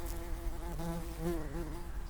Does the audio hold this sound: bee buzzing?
yes